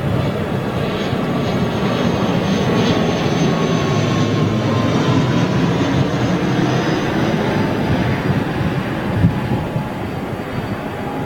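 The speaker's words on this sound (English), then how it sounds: "ATR 72." An ATR 72 turboprop airliner at Manchester Airport gives off a loud, continuous engine roar and drone. The sound holds steady for about eleven seconds with no voices.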